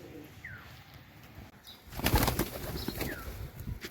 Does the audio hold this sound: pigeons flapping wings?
yes